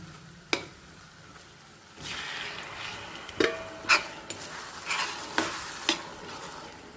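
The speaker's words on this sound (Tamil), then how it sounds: "இப்போ வந்து நம்ம தக்காளி போட்டுடலாங்க" Tomatoes tipped into a pan of browned onions for a mushroom pepper gravy, giving a soft continuous sizzle with scattered sharp clinks and scrapes of stirring against the pan, close by, no talking.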